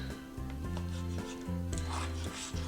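Knife slicing through tenderized cube steak on a cutting board, a series of soft rubbing, sawing strokes in a steady rhythm, close and quiet with no talking.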